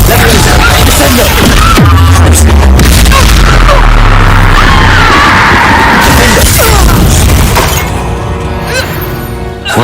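Confringo and Descendo spell blasts in Hogwarts Legacy hit with loud crashing bursts and booming impacts in a chaotic fight, and a voice calls out over them.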